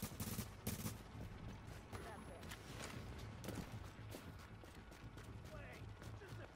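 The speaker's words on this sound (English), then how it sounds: "sniper fire" Sniper fire and other gunfire crack in The Division video game, with sharp, loud shots in quick irregular bursts over steady battle noise. Players talk throughout.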